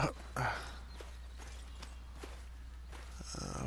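Hooves clop in a game of Brytenwalda as a horse walks, a handful of distinct hoof strikes over a steady low background hum, with no speech.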